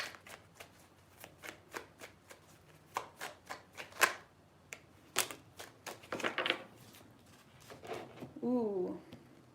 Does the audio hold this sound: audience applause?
no